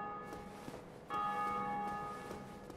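Bell ringing in the video game Dark Souls Remastered, a sustained metallic tone whose resonant hum swells with a fresh strike midway and lingers, faint and distant, with no talk over it.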